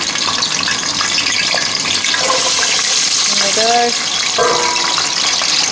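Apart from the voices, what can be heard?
food frying and sizzling in hot fat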